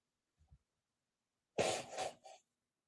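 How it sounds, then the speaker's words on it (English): A short, forceful nasal blast followed by a couple of quieter snorts, close and alone after a brief soft rustle. "Oh, I'll blow my nose"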